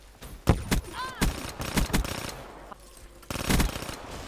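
Gunfire in Black Ops 3 multiplayer on PS4: several loud, sharp bursts from a shotgun, unevenly spaced, with other game sounds in the mix.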